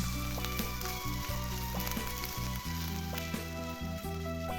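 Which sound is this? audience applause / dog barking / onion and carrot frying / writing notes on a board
onion and carrot frying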